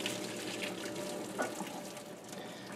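Hot water strained off boiled macaroni noodles in a kitchen sink, a steady close rush of pouring liquid that holds evenly throughout with a small splash near the end.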